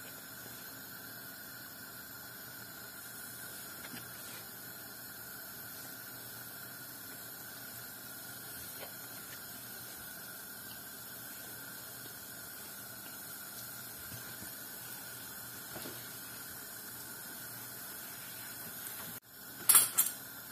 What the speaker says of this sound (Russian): Сейчас будем жарить пирожки.